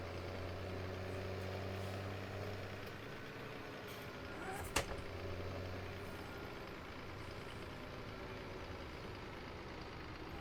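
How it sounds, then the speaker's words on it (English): A John Deere tractor idles in the Farming Simulator 17 video game, its engine a steady, low droning hum that runs throughout, with one brief sharp click near the middle. "Which sounds fantastic, this tractor."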